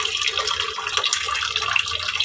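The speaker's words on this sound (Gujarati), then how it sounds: "તો નળ ચાલુ હોતે બંધ કરી દઈએ" Water runs steadily from a kitchen tap into a sink, a close, continuous splashing stream with no talking.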